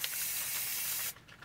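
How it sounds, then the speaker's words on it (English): An aerosol can of NeverWet water-repellent spray is applied to clothing and trail-running shoes in one steady, close hissing burst lasting about a second. The hiss cuts off abruptly and a few faint handling sounds follow. "I applied the spray onto three articles of clothing"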